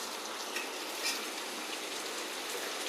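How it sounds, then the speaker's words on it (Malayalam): Raisins and cashews frying in a pan, giving a steady, close, even sizzle throughout with a few faint pops and no talking. "ഉണക്കമുന്തിരിയും പിന്നെ അണ്ടിപ്പരിപ്പും അതെല്ലാം കൂടെ ചേർത്ത് കൊടുക്കാം"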